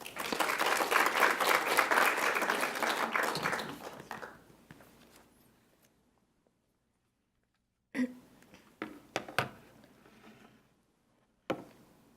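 Audience applause for a speaker at a Heritage Foundation event, loud and sustained for about four seconds before fading into silence, followed later by a few scattered isolated claps or knocks.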